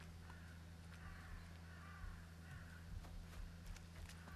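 Crows caw repeatedly in the video game Hello Neighbor 2, faint and distant over a steady low ambient hum, with scattered soft clicks.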